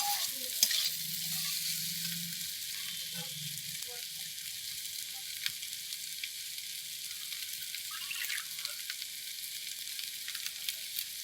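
A soybean and potato curry stirred in a frying pan gives a constant close sizzle with occasional soft spoon scrapes and a brief low hum early on, with no talk.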